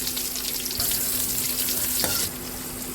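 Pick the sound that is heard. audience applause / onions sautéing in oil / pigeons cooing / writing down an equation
onions sautéing in oil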